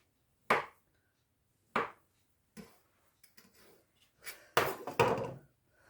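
Knife chopping through potato gnocchi dough on a board: two sharp separate chops, then a quicker cluster of cuts and taps, close and clear with no talk.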